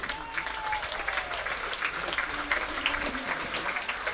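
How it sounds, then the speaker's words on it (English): A crowd at a Vitality Blast T20 cricket match between Worcestershire Rapids and Leicestershire Foxes applauds a bowler, a steady spread of distant clapping across the ground with a commentator faintly talking over it. "Tom Taylor applauded by the crowd"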